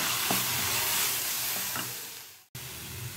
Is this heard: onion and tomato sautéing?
yes